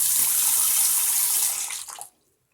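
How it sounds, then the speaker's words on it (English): Water gushes steadily from a freshly repaired faucet in a broad, loud hiss for about two seconds, then cuts off abruptly as the tap is closed, leaving silence. "Now let's open it and see if the water is going"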